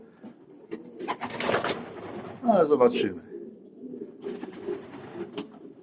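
Racing pigeons coo inside a pigeon loft, with repeated soft throaty calls and some rustling close by, while someone speaks briefly in between.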